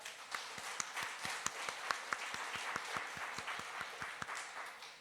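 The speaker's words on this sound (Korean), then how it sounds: "우리 하나님께 우리 영광의 박수를 한번 올려드리겠습니다" A church congregation claps together during a worship service, a dense, steady applause with sharp individual claps running throughout, moderately loud and heard on its own without talk.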